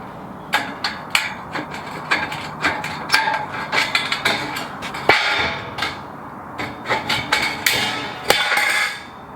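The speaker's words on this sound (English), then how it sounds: "And I just cut it with some tin snips." Tin snips cutting metal flashing while a replacement window is fitted into a house with wood siding: a close, rapid run of sharp metallic clicks and crunchy snips, irregularly spaced, with no talk.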